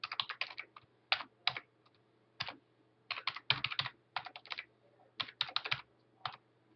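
Close computer keyboard typing of an email address into a sign-in screen, with quick bursts of crisp key clicks separated by short pauses over a faint steady hum.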